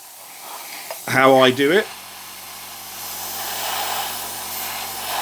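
An airbrush hisses steadily while spraying paint onto a plastic Thunderhawk gunship model for Warhammer 40,000, a soft continuous spray that follows a short burst of speech.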